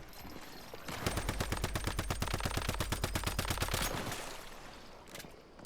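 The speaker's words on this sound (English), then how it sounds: "These are the shotgun turrets, so the closer the enemies are to those, the worse off they're going to be" Shotgun turrets in the video game Once Human fire a fast, evenly spaced volley of loud gunshots that lasts about three seconds, then stops and leaves a quieter background.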